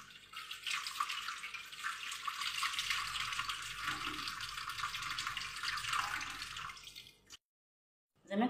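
Tap water runs steadily into a sink while cleaned, cut fish pieces are rinsed for seafood soup, a continuous close splashing hiss that stops abruptly near the end.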